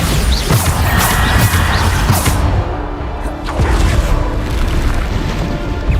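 Bombarda explosion spell cast in the Hogwarts Legacy game, a dense run of loud booming blasts and crashes with a brief lull partway, set against continuous battle noise.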